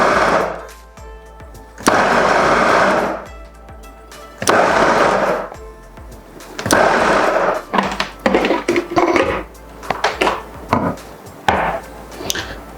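Fufu machine mashing cooked cassava as the dough thickens, folds and grows heavy, running in loud bursts of several seconds with pauses between, then shorter choppy pulses near the end.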